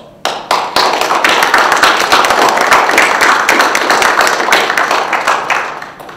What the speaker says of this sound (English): please welcome him with your applause